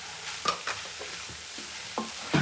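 A spoon stirs a thick veg haleem mixture with salt, turmeric and chili in a pot, giving a few soft scraping strokes over a low sizzle, close and fairly quiet.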